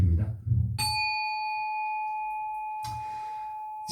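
A single bell struck once, then ringing on with a sustained, clear tone that slowly fades after some low talk at the start, with a faint rustle near the end.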